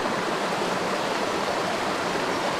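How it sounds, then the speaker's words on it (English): Waterfalls and small cascades rush in a steady, dense roar that fills the scene from nearby, unbroken and with no voices over it. "I had a great time with these waterfalls over here."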